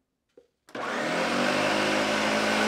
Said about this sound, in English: It's a very powerful blender.